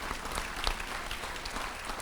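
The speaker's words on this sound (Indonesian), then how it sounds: "Yang percaya kita berikan tepuk tangan bagi Tuhan." Audience applause at a youth church worship service, with dense, steady clapping from many hands filling the whole stretch at an even level and no talk over it.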